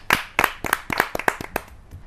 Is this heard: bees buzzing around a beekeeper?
no